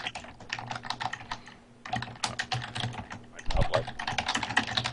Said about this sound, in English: He was typing while you were talking.